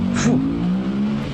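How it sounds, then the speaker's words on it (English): Police motorcycle of 900 to 950 cc accelerating in third gear, a loud, close engine note rising in pitch briefly then holding a steady roar. "The cop's motorcycle, it's gotta be a 950 or 900 cc's. He was third gear and he floated it"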